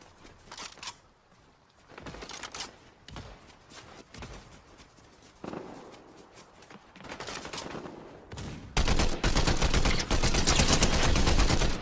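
Full-auto SMG fire in a PS5 shooter, rattling in repeated bursts of varying loudness before a long, loud sustained stream of rapid shots at the end.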